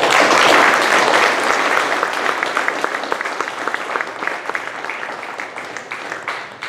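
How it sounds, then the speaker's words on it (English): A crowd at an outdoor community mental health walk in Agassiz Harrison claps for the volunteers. The applause is dense and sustained, strongest at the start and tapering slightly while staying steady, with scattered individual claps standing out. "please give them a warm applause"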